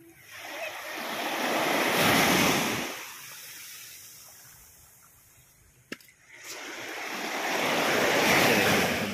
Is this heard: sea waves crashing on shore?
yes